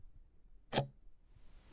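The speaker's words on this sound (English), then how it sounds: "A ticking clock." Two sharp clicks of a ticking clock, spaced about a second apart, crisp and fairly close against a quiet background.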